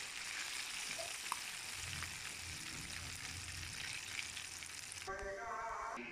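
Zinger burger pieces deep frying in hot oil, giving a steady, dense sizzle that runs unbroken, with a faint clink partway and a brief change in texture near the end.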